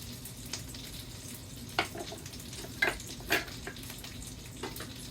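Burger patty sizzling steadily in a frying pan, with soft crackling and a few brief spatters or scrapes standing out over a low, constant fry.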